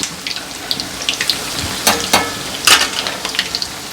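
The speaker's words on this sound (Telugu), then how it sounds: "వడలు బాగా పొంగుతున్నాయి చూడండి, కనిపిస్తున్నాయా?" Black-eyed pea (alasanda) vadas, made from stone-ground batter, deep frying in hot oil: a steady, close sizzle with bubbling crackles and a few sharper louder surges, with no voices.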